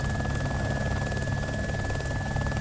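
A Little Bird helicopter flying in the DayZ video game, its rotor chopping in a fast steady pulse with a constant engine whine, loud and close for the whole stretch, no voices over it.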